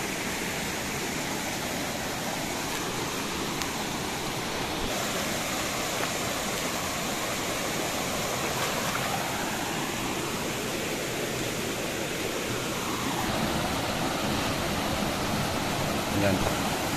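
A shallow river flows steadily over stones where shrimp traps are set, a constant broadband rush of water filling the whole stretch at close range with no talk over it.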